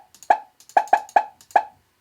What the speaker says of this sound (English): Or you can make a pop sound.